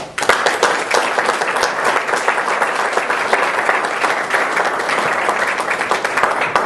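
An audience at a military academy send-off breakfast claps to welcome a speaker, producing loud, sustained applause from many hands that fills the room evenly from start to finish.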